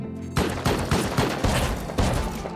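A shotgun trap in the game Rust fires a rapid series of about six loud, close blasts at uneven intervals, each a sharp crack with a brief rumbling tail.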